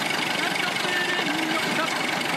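A car engine idles steadily at a constant rumble, with voices talking over it throughout.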